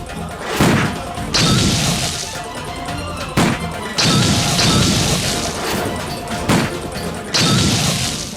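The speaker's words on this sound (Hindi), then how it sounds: "अबे कौन चला रहा है गोली?" Loud, sharp gunshots from a Hindi TV drama crack out in repeated clusters, each a heavy bang with a booming tail, several volleys spread across the stretch with brief lulls between.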